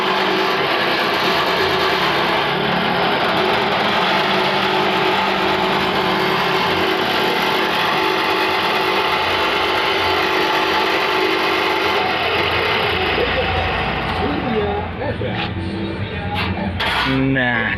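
A corn sheller threshing machine runs continuously with a loud, steady mechanical roar and rattling drone, changing slightly near the end as clattering noises appear.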